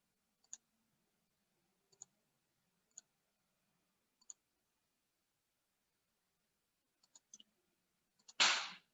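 Sparse, faint computer mouse clicks sound one at a time with irregular gaps, a few close pairs near the end, then a brief louder rustle closes it.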